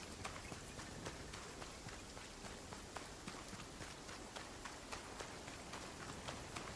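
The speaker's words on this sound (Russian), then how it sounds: "Почему здесь вечно идет дождь?" Rain falling in the video game Banishers: Ghosts of New Eden, a dense, steady hiss of downpour with scattered sharper drop ticks, continuous throughout and fairly loud.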